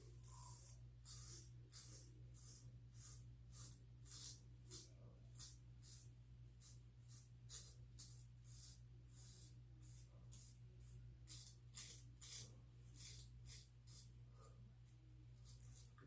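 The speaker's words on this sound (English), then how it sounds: "Let me rinse the razor again." A safety razor fitted with half a Bluebird double-edged blade is rinsed under running water, heard as faint, repeated splashing bursts over a steady low hum.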